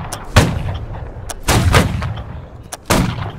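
Three heavy artillery blasts in a video game boom out at spaced intervals, each a sharp loud report followed by a rumbling decay, with no talk.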